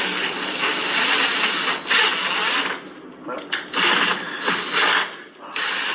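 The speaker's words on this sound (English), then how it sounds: "I'm just going to put this last screw in." A screw is driven by hand into a door while a badly installed deadbolt is repaired, giving a close, loud ratcheting, clicking grind in uneven bursts with short breaks.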